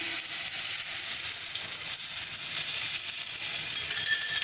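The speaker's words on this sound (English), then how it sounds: "add the mustard and the curry leaves and put off the stove for a moment" Mustard seeds and curry leaves sizzle in hot oil, a soft steady crackling hiss with faint clinks of a utensil, fairly quiet and without speech.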